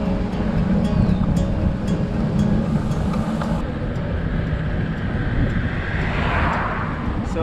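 Steady wind roars and buffets past a cyclist riding along a riverside in an older Laval neighborhood near Montreal, a broad continuous rush that stays loud throughout with no talk.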